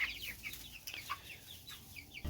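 Young Cornish Cross and Rhode Island Red chicks chirp in quick, soft high peeps scattered throughout, faint and close, with no talking.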